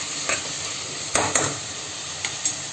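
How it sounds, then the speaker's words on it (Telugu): Onions, green chillies, salt and turmeric frying in oil for egg curry, a quiet steady sizzle broken by a few sharp spatula taps against the pan. "గుడ్డు పులుసుకి కొన్ని ఆనియన్స్, 2 పచ్చిమిరపకాయలు, కొంచెం ఉప్పు, పసుపు వేసి ఫ్రై చేసుకుంటున్నాను నూనెలో."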